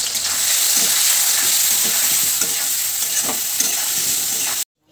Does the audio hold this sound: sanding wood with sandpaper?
no